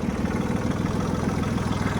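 A Mitsubishi MTR-300 mini tractor drives in gear with its power take-off shaft running. The engine gives a loud, steady, close-up low chugging hum with an even pulsing rhythm and no voices.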